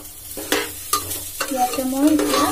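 A pan of jeera rice ingredients frying and being stirred, with a steady sizzle under repeated scraping strokes of a spoon against the pan, close and fairly loud throughout.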